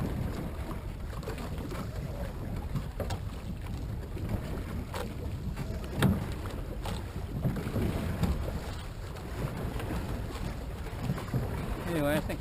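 A sailboat, trimmed for sailing, pushes through sudden choppy water, with steady wash and sloshing against the hull under continuous rough wind buffeting on the microphone and an occasional knock.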